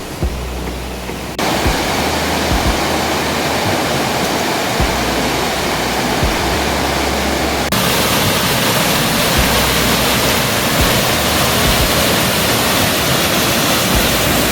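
Seethamma Kundu waterfall in Wayanad roars as a steady, loud, close rush of falling water, a dense continuous wash with no voices over it.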